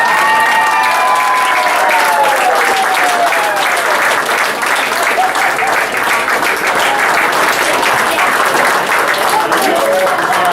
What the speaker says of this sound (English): I want you guys to give yourselves a round of applause.